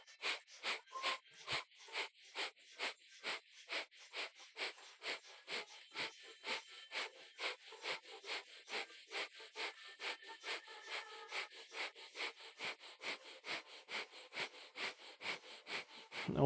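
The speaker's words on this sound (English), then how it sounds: "Breath of fire." Rapid, rhythmic forceful exhalations during yoga breath of fire, a long steady train of short sharp nasal puffs roughly one or two per second, close and fairly soft.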